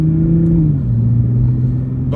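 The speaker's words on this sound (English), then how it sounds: "I love the downshifts." A Toyota Supra's engine blips on a downshift, a loud close rumble that dips and then holds at a lower steady drone for a couple of seconds.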